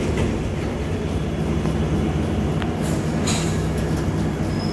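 A London Underground train departs Piccadilly Circus station, rumbling and rolling nearby, with wheels clattering and a few brief metallic squeals over a dense, steady roar.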